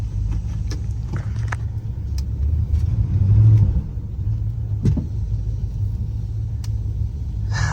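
A 1967 Chrysler 300 engine idles low and rough with a steady rumble and a slight rise in revs partway through, and a few faint clicks sound above it.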